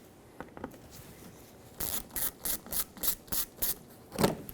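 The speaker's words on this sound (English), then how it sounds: "I'm going to pry it down and remove that." Trim around the fog light on a 2013-2018 Hyundai Santa Fe is worked loose and pried off. A rapid series of close, scraping clicks is followed by a sharper snap as the cover releases.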